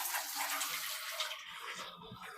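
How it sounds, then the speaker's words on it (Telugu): Hot water from boiled vermicelli pours through a perforated colander into a pot below, a steady close splashing gush that thins out toward the end. "ఆఫ్ చేసుకొని ఇలా రంధ్రాలు ఉన్న గిన్నె తీసుకొని కింద గిన్నె పెట్టుకొని దీంట్లోకి మనం వంచేసుకోవాలి"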